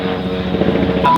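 A helicopter passes overhead, a loud, steady droning rotor hum with a low rumble that holds constant and close for the whole stretch.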